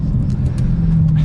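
A 2022 Dodge Challenger SRT Super Stock accelerating, its deep steady exhaust rumble loud and close throughout with a slight rise in pitch, no voices over it.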